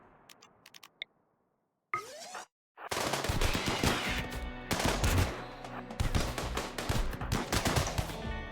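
Sustained automatic gunfire from the colony-management game RimWorld, a few sharp isolated shots at first, a short gap, then dense, loud continuous firing layered over game sound to the end.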